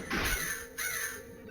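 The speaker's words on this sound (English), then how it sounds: "It's a foul crow." A crow caws twice in the horror game House of Necrosis, two loud, harsh calls close together, with no voices around them.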